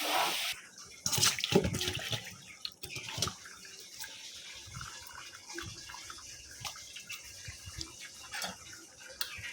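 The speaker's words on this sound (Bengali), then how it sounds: "পানিটা দিয়ে দিছি বিরিয়ানিতে" Water poured into a pot of biryani, heard as a splashing pour at the start that settles into gentle, faint watery trickling and drips.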